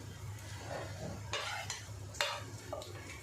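A spoon stirs fenugreek leaf and potato curry with crushed peanut powder in a pan over very low heat, giving soft scraping strokes and light clinks, close and quiet.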